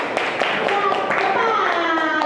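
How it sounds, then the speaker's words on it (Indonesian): Students in a classroom clap for a group that gave the right answer, a brisk burst of hand claps close by, with children's voices and chatter mixed in and a steady talking tone running beneath. "yuk kita beri tepuk tangan dulu untuk kelompok yang tepat"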